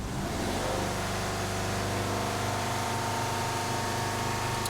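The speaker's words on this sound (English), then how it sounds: "So let's give it a rev." A Subaru engine with a newly replaced short block is revved, giving a loud, continuous mechanical drone held steady for several seconds, up close with no talking.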